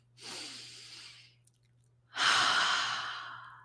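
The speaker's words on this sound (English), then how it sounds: "Take a deep breath. Let it out." A deep inhale followed by a long exhale during a calm guided relaxation session, two close, fairly loud breath sounds with a brief pause between them and no talking.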